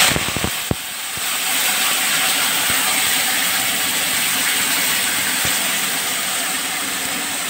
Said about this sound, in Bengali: এবার আমি মশলা পেস্টটা দিয়ে দিলাম।